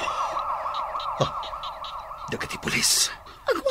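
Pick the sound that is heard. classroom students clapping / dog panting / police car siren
police car siren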